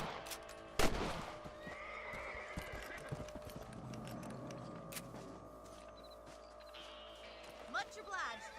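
Horses in Red Dead Redemption neigh and whinny, with a loud whinny early and another near the end, clip-clopping hooves and game ambience beneath, while someone talks over them.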